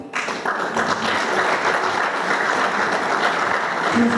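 Audience applause at a book launch, dense steady clapping from a crowd that starts abruptly and carries on at an even level for several seconds with no talk over it.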